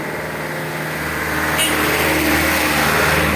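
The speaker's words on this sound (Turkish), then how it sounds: "Araba geliyor." A car engine revs and grows louder as the vehicle approaches on a road in Muradiye, Rize, Turkey, a steady close rumble with a rising roar and no speech.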